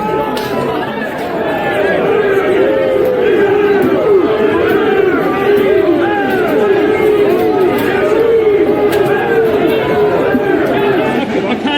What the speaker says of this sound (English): The crowd is now starting to disperse.